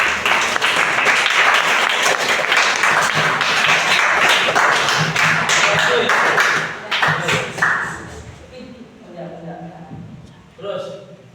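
Students in a classroom give a round of applause after a group presentation, dense clapping for about seven seconds before tapering off into scattered claps and voices talking.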